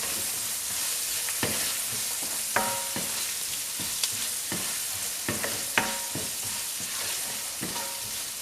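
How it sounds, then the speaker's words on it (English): Chopped onion sizzles steadily in a hot pan, with scattered pops and the clicks of stirring spread across it, close and continuous with no speech. "you have to fry this onion until it becomes brown in color"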